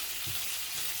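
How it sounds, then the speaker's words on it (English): Pork tenderloin frying in a coated non-stick frying pan, a steady close sizzle with a faint soft bump near the start, no talking. "trim this up, and get it in the frying pan"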